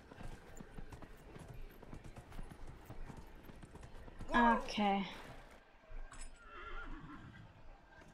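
Horse hooves clip-clop beneath a brief horse whinny in Dragon Age: Inquisition, the neigh standing out loudly near the middle, with someone talking at times.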